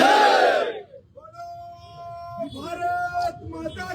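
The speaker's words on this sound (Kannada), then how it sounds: "ಒಂದ್ಸತಿ ಜೋರಾಗಿ ಎರಡೂ ಕೈಗಳನ್ನ ಮೇಲೆತ್ತಿ ತಾಯಿ ಭಾರತ ಮಾತೆಗೆ ಜೈಕಾರ ಕೊಡೋಣ." A crowd at a political protest sit-in roars a loud unison shout of Bharat Mata ki Jai that fades within a second, followed by a lone sustained voice and scattered crowd noise.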